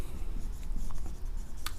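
Marker or chalk scratching across a classroom board during a plant pathology lesson, a close, continuous scribbling stroke sound with short squeaky bursts near the end, no talking over it.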